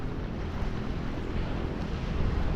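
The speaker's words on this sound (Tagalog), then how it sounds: "Siguro may konting alon pero payapa na yan" A calm sea with small waves near the Sierra Madre mountains makes a steady broadband wash, fairly loud and continuous, mixed with wind buffeting the microphone and no voices.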